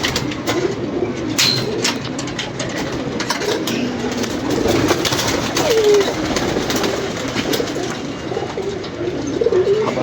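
Pigeons coo steadily throughout, low throaty calls repeating close by over a busy background of birds and ambient noise at a pigeon keeper's loft.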